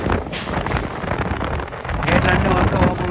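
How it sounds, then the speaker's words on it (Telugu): Strong wind buffets the microphone in continuous rushing gusts, loud and close, with water noise underneath, aboard a moving express train near a full river. "ఫుల్ గాలి కూడా వస్తుంది చూడండి"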